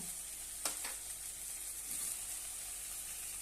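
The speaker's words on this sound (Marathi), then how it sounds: "तेलावर छानपैकी परतून घेऊया आता यामध्ये थोडासा कढीपत्ता घालूया" Curry leaves drop into hot oil for a potato and pavta bean curry, giving a faint, steady sizzle with a couple of brief crackling bursts early on.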